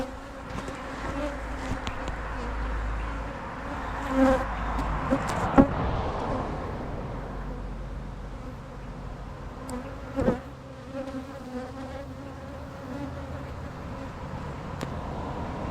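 Continuous droning buzz of many bees around a swarm box close by, steady throughout with a few brief louder passes and faint traffic far off.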